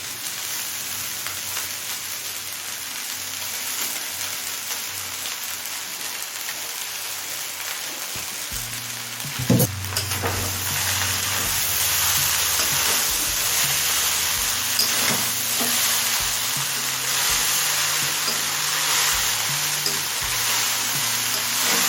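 Chow noodles are stir-fried with mixed vegetables in a pan, giving a dense, rain-like sizzling hiss that grows louder partway through, with a sharp clank and occasional low scraping and stirring knocks.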